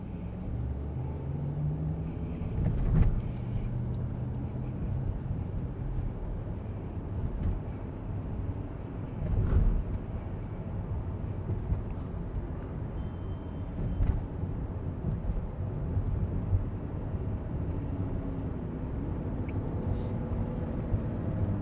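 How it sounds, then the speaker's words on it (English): A very loud car in downtown Detroit, a continuous low engine rumble with occasional louder surges heard from inside a moving vehicle, steady throughout without speech. "Very loud car. It's pretty loud."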